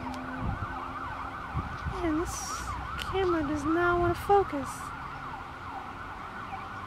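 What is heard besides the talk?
passing emergency vehicle sirens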